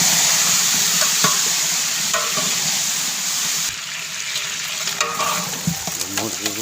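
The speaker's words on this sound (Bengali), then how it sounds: "এই যে আপনার মুরগি তেলের পরে দিয়ে দিচ্ছি।" Chicken pieces for a roast hit hot oil and fry with a loud, continuous sizzle, broken by clinks and scrapes from stirring and turning in the pan.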